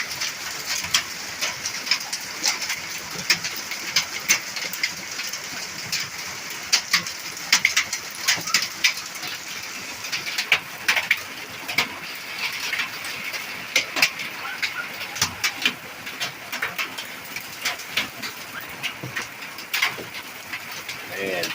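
Hail and heavy rain pelt a truck, giving a steady patter broken by sharp, irregular cracks of bigger stones striking the metal close by, while someone talks throughout.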